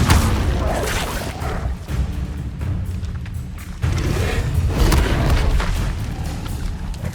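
Fiery spell bursts from the Incendio charm in Hogwarts Legacy, a run of loud booming whooshes and crackling flares layered over continuous combat rumble, with no talking.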